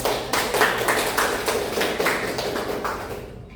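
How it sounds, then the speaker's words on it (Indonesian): A classroom group applauds a student with dense, steady hand clapping that stays fairly loud for a few seconds before thinning out and fading at the end. "Kita kasih aplaus dulu"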